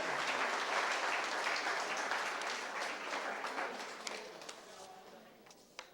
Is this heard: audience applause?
yes